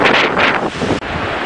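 Strong Patagonian wind near El Chaltén roars steadily across the microphone, a loud continuous rushing buffet with brief dips in the gusts.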